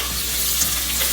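Onion, garlic and ginger fry in a generous amount of hot oil, a steady close sizzle that holds level throughout with faint stirring underneath.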